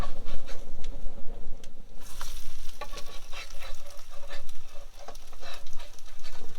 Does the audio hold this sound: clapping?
no